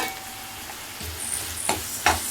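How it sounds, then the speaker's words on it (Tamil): Tomato with garam masala and chili powder sautéing in a pan over medium flame for a mushroom masala, giving a faint, steady sizzle with a few soft stirring scrapes and light utensil clinks. "ஃபுல் ஃப்ளேமில் வைக்காமல் நல்லா மீடியம் ஃப்ளேமில் வச்சு நல்லா வதக்கிக்கலாம்."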